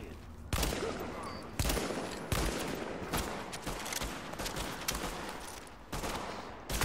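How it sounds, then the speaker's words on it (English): Gunfire in the video game The Division: repeated bursts of rapid automatic shots, loud and close, separated by brief gaps, with no talking. "Every gun has a distinctive fire pattern that you need to find out for yourself."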